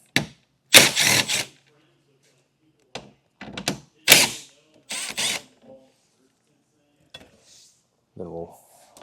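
A ratchet loosens two 10mm bolts behind a tail light panel on a 2024 Subaru, heard as several sharp bursts of clicking separated by quiet pauses, close and fairly loud.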